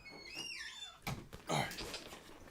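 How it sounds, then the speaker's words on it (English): An indoor door swings shut in a home office, giving a couple of close, solid thuds against a quiet background with no voices. "I'm gonna shut the door."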